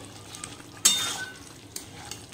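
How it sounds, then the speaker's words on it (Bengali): Chicken sautéing with spices in a pan, a short loud sizzle and stir burst over a low background hiss, close by. "চিকেনটা আমি সমস্ত মশলা দিয়ে দিয়েছি, আর একটু কষানো হবে"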